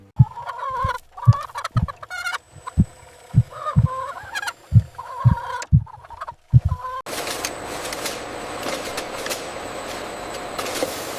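Hens cluck repeatedly at close range in short, uneven bursts, followed by a steady wash of broadband noise.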